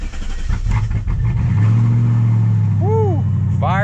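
A supercharged V8 in a W220 Mercedes S55 AMG cranks and fires up, catching into a loud, steady idle with a brief rev, close by, followed by a short whoop from a voice.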